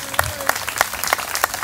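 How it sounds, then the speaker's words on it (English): Scattered outdoor clapping from a crowd at a Memorial Day parade, a few distinct claps in a slow, loose rhythm, fairly faint. "I know you're also clapping for Muskegon High School, North Muskegon High School, the Catholic high schools"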